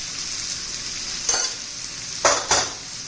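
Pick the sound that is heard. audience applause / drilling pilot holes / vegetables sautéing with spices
vegetables sautéing with spices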